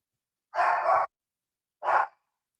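A dog gives two barks, the first a longer drawn-out bark and the second short, close and clear against silence.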